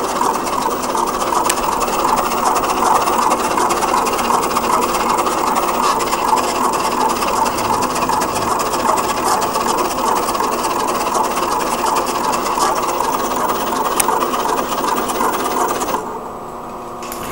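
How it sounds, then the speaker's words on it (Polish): A cutting plotter slicing out stickers, a continuous buzzing mechanical whir with fine rapid ticking that runs steadily for about sixteen seconds before dropping off, close and loud with no talking. "I maszyna zaczyna wycinać na tej."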